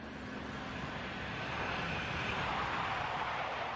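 A 25-year-old Jetstream airplane's engine drones steadily at close range, a dense, constant roar that swells slightly midway and holds without letup.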